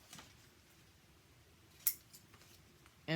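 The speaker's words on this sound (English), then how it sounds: "So you could just cut 3 triangles, like 1," Scissors snip through paper while triangles are cut for a children's letter craft, giving a single sharp crisp snip followed by a louder cut at the end, close by in a quiet room.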